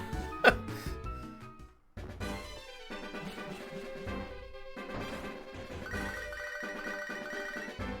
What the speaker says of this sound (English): Oh, there's first phone call.